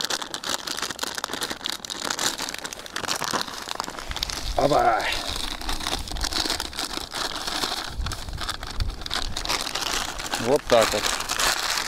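Two packets of carp groundbait are torn open and mixed by hand at a fishing lake, producing continuous crinkling and rustling of packaging and crumbly bait, with someone speaking briefly over it.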